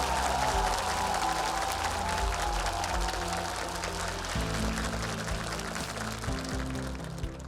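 Audience applause for the winning team at a Ukrainian televised talent show results announcement, continuous crowd clapping under loud background music.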